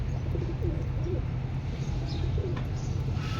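Low, repeated coos of Cobra breed pigeons blend into a steady background murmur, with a few faint chirps higher up.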